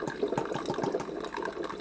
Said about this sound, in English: Rinse out the frother.